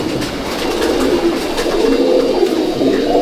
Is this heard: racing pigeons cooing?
yes